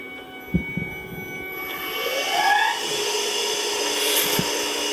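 A Tormach CNC mill cuts a draw bar ring spanner under high-pressure coolant, giving a close, continuous whirring hiss that rises and falls in pitch as the spindle and cut change, with a few small knocks and no talk.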